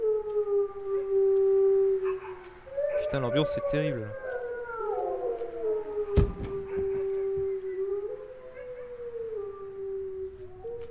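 Wolves in a Thai horror video game keep up long wavering howls, several voices overlapping and sliding in pitch, while someone talks over them.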